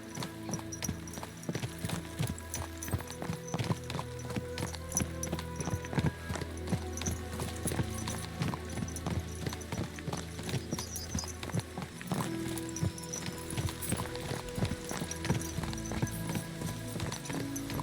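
Horse hooves clip-clop steadily through the medieval world of Kingdom Come Deliverance 2, a continuous rhythmic trot mixed with game ambience, with occasional faint whinnies.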